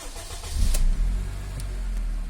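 A Honda Accord 7 engine with a freshly rebuilt motor that had been knocking starts up: a brief crank, a catch and a rev swell, then a steady close idle with no voices.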